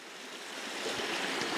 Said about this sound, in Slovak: No, pozri, aký potôčik prekrásny.